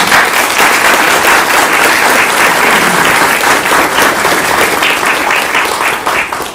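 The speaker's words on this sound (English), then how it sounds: "I would like to just give a round of applause for them, please." Audience at a school district governing board meeting applauds two school counselors, a steady, dense round of clapping from a room of people lasting several seconds before tapering slightly at the end.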